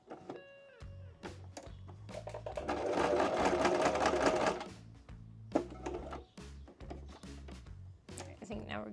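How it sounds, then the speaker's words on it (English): A sewing machine stitching a bulky apron corner runs in a loud whirring burst between quieter stops and starts, with a person talking over it. "With your needle down, lift up the presser foot, pivot, and we'll sew right here."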